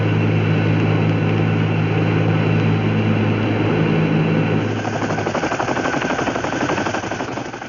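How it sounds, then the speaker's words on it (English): A loud, continuous twin-rotor Chinook helicopter drone with heavy rotor thumping and engine whine, the rhythmic chop becoming more pronounced toward the end. "Helicopters, like the huge two-rotor Chinook, also played their part"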